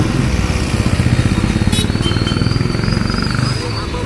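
Motorcycle engines rumble steadily on a busy street, a close, continuous throbbing drone with a short brighter burst partway through and a thin whine near the end.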